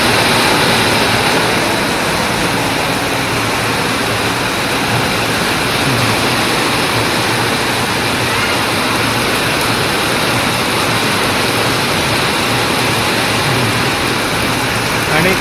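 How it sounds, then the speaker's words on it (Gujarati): A heavy downpour in a village makes a loud, steady, unbroken hiss that runs without a break for the whole stretch and drowns out everything else, with speech faintly mixed in. "મિત્રો આવ્યો ધોધમાર વરસાદ"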